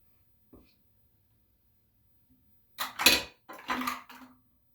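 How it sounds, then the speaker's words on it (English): Hair mixture stirred in a cup with a utensil, a faint tap, then a few short clinking, scraping bursts close by, with quiet gaps between. "So I'm mixing it in."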